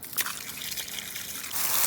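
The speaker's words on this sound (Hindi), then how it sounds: "पैर धोएंगे यहाँ पे" Water trickles and splashes nearby while someone washes their feet, a soft uneven pouring with a few brief louder spatters.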